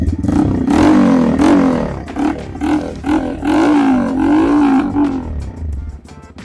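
A motorcycle fitted with an aftermarket exhaust revs in loud, close bursts, a deep throaty burble that rises and falls repeatedly in pitch, then settles toward a quieter rumble at the end.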